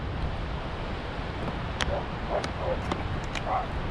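At the beach, several small dogs yip and bark in the distance. The short barks are spaced out over a constant wash of wind and surf.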